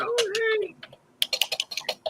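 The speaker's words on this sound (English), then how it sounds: "Who's clacking on their keyboard loudly with the hammer?" Loud, rapid clacking on a computer keyboard, a burst of sharp keystrokes in quick succession following a brief voice at the start, close and prominent.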